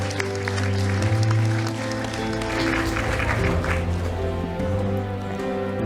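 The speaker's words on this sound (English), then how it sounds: "A round of applause, please." At a policy forum in the Asia Pacific, an audience welcomes a deputy minister to the stage with moderate applause, the clapping spread under a steady tonal background hum.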